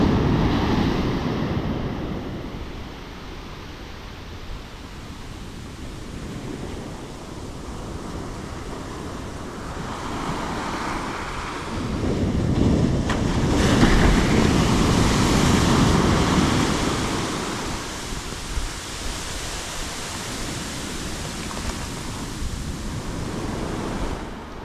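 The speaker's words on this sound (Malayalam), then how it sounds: "പതിവിലും നല്ല ശക്തമായ തിരയാണ് ഇവിടെ ഇപ്പോൾ" Strong sea waves surge onto a beach in a steady broadband roar that swells and recedes, with wind buffeting the microphone throughout and no voices.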